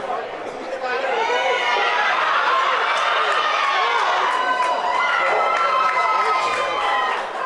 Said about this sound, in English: I love to hear the crowds.